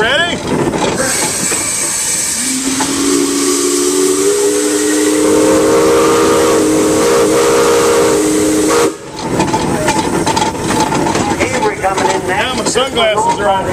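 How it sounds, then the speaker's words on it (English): A long, loud steam whistle blast from an 1895 Frick steam traction engine at a parade of power, holding for several seconds over hissing steam, with people talking around it. "I think it's got a whippy whistle though."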